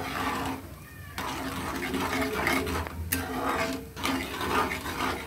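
A spoon scrapes and swishes steadily through a kalakand mixture with sugar in a pan over a high flame, a continuous close stirring texture with soft clinks.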